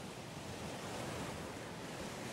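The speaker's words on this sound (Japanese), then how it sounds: "6月の礼文島の海岸です。" Waves washing onto the seashore of Rebun Island in June make a continuous, soft surf hiss with some wind, faint and steady with no voices over it.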